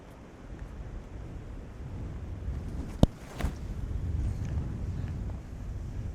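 Wind rushes across a disc golf course in low, buffeting gusts over the microphone, rising and swelling through the stretch, with one sharp knock partway and no speech.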